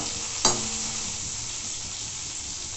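Pirandai (adamant creeper) is sautéed in a pan, giving a low, even sizzling hiss with a single sharp utensil knock early on and no speech.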